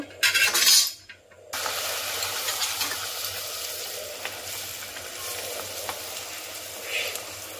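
Luchi, puffed bread flavoured with palm, frying in hot oil: a steady, soft sizzle runs throughout after a brief louder rustle at the start, with faint clinks near the end.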